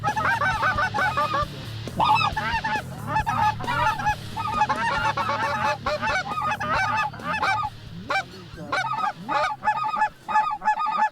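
A flock of white-fronted geese honks loudly and continuously on a waterfowl hunt, with many overlapping calls close by and no clear talk.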